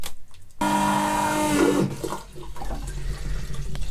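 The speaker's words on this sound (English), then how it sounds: "There is water coming." Water rushes into a boat's toilet, starting abruptly with a loud gushing flow and a whirring pump, then fading to a softer trickle and gurgle.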